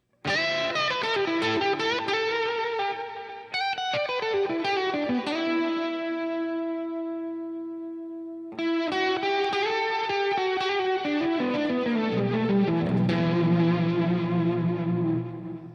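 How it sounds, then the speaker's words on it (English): A clean guitar tone on a Headrush unit is blended with a synth voice, producing rich, effected chords with echo and a chorus-like shimmer. Two long sustained phrases ring out up close, with a short break between them, and no one speaks. "what I want to do now is just kind of blend in this synth with my original sound"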